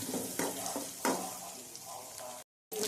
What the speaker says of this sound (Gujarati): હવે એક ડુંગળી નાની એવી લીધી છે એ નાખી દઈશું અને એને આપણે સાતળશું બધાને સાથે